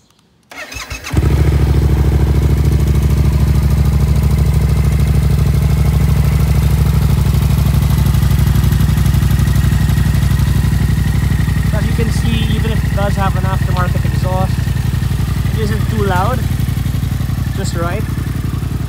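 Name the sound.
Yamaha MT-07 motorcycle engine starting and idling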